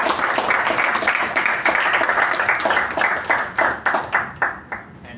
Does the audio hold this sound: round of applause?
yes